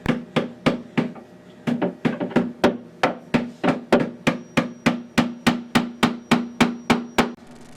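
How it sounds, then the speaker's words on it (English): Steady, even hammer taps on a screwdriver tightening a bulkhead nut on a 500-gallon aquarium, around twenty sharp metallic strikes in quick rhythm with brief pauses, close and fairly loud. "we're using a straight edge screwdriver and a hammer to gently tap the collar"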